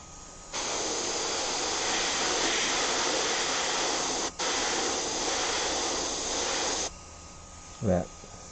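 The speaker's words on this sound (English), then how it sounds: "That airbrushing with the right hand." Airbrush spraying paint onto Air Force 1 sneakers gives a steady, loud hiss that runs for about six seconds, breaks briefly once, then cuts off, leaving a quiet background and a short low thump near the end.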